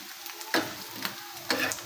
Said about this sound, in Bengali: আমার মাছ ভাজা হয়ে গেল দুই পাশে